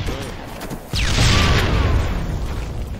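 Grenade blast in Halo 3: a loud deep boom that erupts suddenly and rumbles on, with a rising whoosh at its start, after brief background game noise.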